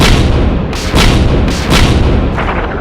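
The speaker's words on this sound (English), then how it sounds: "the thunder of cannons and exploding shells frightened some of the militia" Cannon fire and exploding shells in a Revolutionary War battle scene at Bunker Hill boom in a rapid series of loud, close blasts, about four or five heavy reports rolling one after another.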